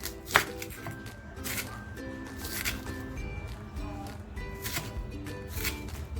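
A knife slices through the bulb of a spring onion on a cutting board, giving a quick run of soft, crisp chops and taps at close range in a quiet kitchen.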